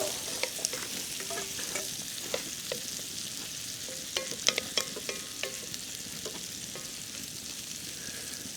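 Tomatoes cook in a pan over a campfire outdoors, making a soft, steady sizzle with scattered crackles and light ticks throughout.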